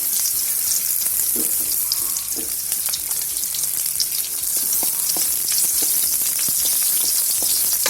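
Garlic fries in hot oil in a pan, a loud, dense and continuous sizzle with the scrape and clatter of stirring running through it.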